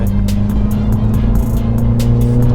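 A Mini Cooper GP3 with KW two-way adjustable suspension drives at high speed, around 120 km/h, giving a steady, loud engine and road drone with tire and wind noise throughout, heard from inside the car.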